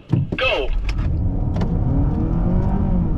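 A Honda Civic RS e:HEV hybrid pulls away hard in an acceleration run, a rising engine and road hum building steadily after a short burst of excited voices at the start.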